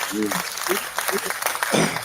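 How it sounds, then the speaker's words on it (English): Audience applause at a crowded live news event, a scattered patter of clapping heard beneath a voice talking over it, fairly close and moderately loud for the whole short stretch. "Everybody give them a round of applause."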